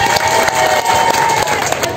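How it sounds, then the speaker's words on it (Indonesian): A crowd of parents at a school curriculum launch breaks into applause, a loud, continuous wash of clapping with murmuring voices and a steady tone underneath. "Tepuk tangan Bapak Ibu."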